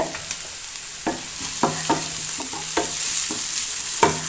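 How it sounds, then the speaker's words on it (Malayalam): Chopped onion and green chillies sautéing in a pan for a vegetable roll filling, with a steady sizzle under a series of distinct, evenly spaced spoon scrapes close by. "അതിലേക്ക് രണ്ട് മൂന്ന് പച്ചമുളക് പൊടിയായി അരിഞ്ഞത് ഇട്ട് കൊടുക്കുന്നുണ്ട്"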